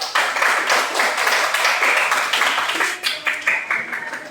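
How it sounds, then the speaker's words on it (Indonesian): A class of students applauds a group after its presentation, a short burst of close, brisk clapping that trails off into scattered separate claps toward the end. "tepuk tangan untuk kelompok 1"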